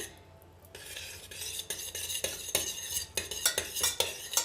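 A utensil scrapes and clinks around a metal saucepan in steady stirring strokes as jam warms, close and fairly loud, with no voices.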